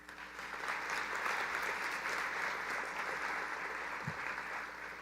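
An audience at a Riverside County Third District State of the District event applauds, producing even, sustained clapping at moderate volume throughout.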